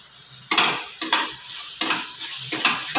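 Spices and green chilli for prawn pulao sautéed in hot oil in a pan, a steady sizzle broken by several scraping stirs of a spoon at regular intervals, close and moderately loud with no talking.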